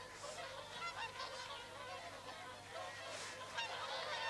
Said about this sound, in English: Geese there as well, taking advantage.